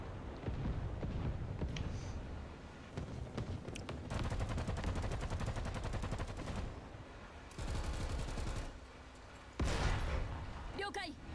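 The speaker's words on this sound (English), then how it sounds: "That's the first time I think I've ever used the auto cannon for that." An auto cannon in a video game fires in long rapid bursts, loud and rattling, broken by brief pauses between volleys, with a voice speaking in places.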